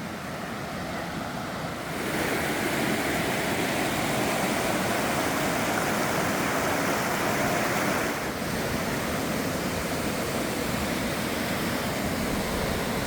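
Little Niagara waterfall on the Appalachian Trail gives a steady, broad roar of falling water that swells slightly louder after the first couple of seconds and holds continuously throughout, with no voices.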